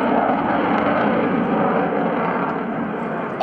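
An F/A-18C Hornet jet at the 2011 Boston Portsmouth Airshow gives a loud, steady, broad engine roar throughout, close and continuous.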